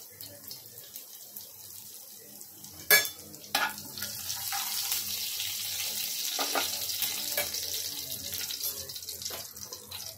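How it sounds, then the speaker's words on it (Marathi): Cumin seeds hit hot oil after a couple of sharp clatters, sizzling with a steady bright hiss, continuing close and fairly loud to the end. "तेल गरम करायला ठेवलंय, जिरा टाकते"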